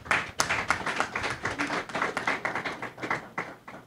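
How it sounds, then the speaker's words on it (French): Scattered audience applause at a French-language technical certification conference, with uneven claps and taps that stay moderately loud and sparse rather than a dense ovation. "Maître Dilia Lemaire, que je vous demande d'applaudir."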